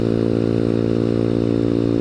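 Honda Grom motorcycle engine running steadily while riding, a continuous close buzzing drone with strong harmonic tone and no speech.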